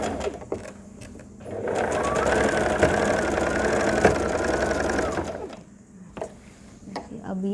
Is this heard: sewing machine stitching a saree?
yes